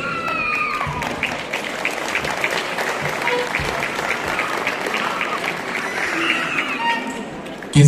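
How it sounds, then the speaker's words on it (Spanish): A crowd applauds an orchestra after danzón pieces at a town queen pageant, with sustained loud clapping and some cheering under overlapping voices, lasting about eight seconds before a sharp sound at the end. "Que se escuche ese ramillete de aplausos"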